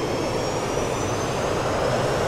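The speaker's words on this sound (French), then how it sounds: "on pousse les moteurs" Jet engines of a Boeing 737-200 spool up for takeoff in the X-Plane 11 flight simulator, a loud, steady roar with a high whine running through it, no voices.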